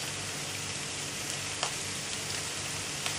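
Onions sautéing in a pan with sugar and salt make a steady, dense sizzle that runs without a break, with a few faint stirring clicks. It is close and fairly loud, and no one talks.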